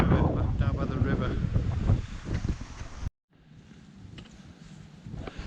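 Strong wind on a wet day near Moel Siabod buffets the microphone in loud gusts, cuts out abruptly, then returns as a softer, steady rush.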